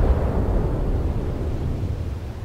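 Naval guns fire from an Imperial Japanese Navy ship in the War Thunder video game, a heavy, close boom spreading into a deep, rolling rumble that slowly fades, with no voices over it.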